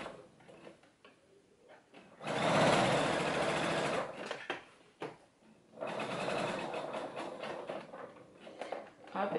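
A home sewing machine runs in two steady bursts of a couple of seconds each, its fast needle clatter and motor whir stitching fabric up close, with a quieter gap and soft handling noises between.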